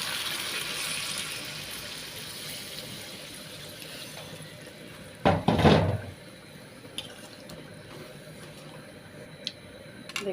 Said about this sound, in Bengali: এখন আমি পানিটা দিয়ে দিচ্ছি।